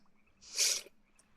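A single sneeze bursts out at moderate loudness, sharp and breathy, peaking briefly in the middle of a quiet stretch with faint background hum.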